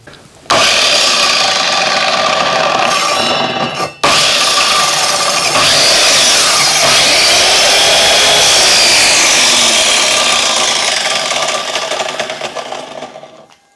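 An Einhell 2112 mitre saw cuts through a piece of wood, a loud steady whine with a brief dip near the start, running continuously before spinning down at the end.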